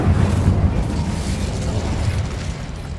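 The Incendio fire spell bursts out in Hogwarts Legacy as a loud, dense whooshing roar of flame with a heavy low rumble, sustained for a few seconds and slowly easing off.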